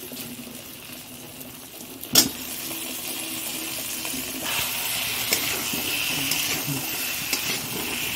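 Boiled potatoes frying and being stirred in a pan for Bengali egg curry, a steady close sizzle with a sharp clatter of the spatula early on and occasional soft scrapes.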